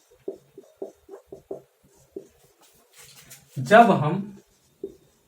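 Pen or chalk writing out a note, a string of short light scratching strokes in quick bursts, with a person speaking briefly afterward.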